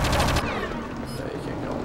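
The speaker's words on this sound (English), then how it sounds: "I can fire all around him" Gunfire in the video game Project Eden, a loud burst of rapid shots at the start followed by a denser, continuous clatter of fire and game effects.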